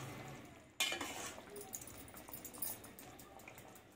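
A spoon stirs country chicken curry with masala in a pot, starting with a sudden wet clatter and then soft sloshing scrapes and a gentle sizzle, close by and without speech.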